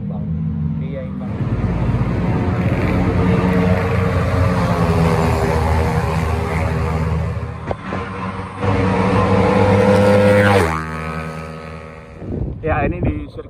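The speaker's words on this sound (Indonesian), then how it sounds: "ini di sirkuit Sentul nih Om, kita coba nih Vario 160 sama Lexi" A Yamaha Lexi 155 and a Honda Vario 160 scooter race on the Sentul circuit: loud engine drone rising in pitch as they accelerate, with heavy wind buffeting and a short drop before revving again.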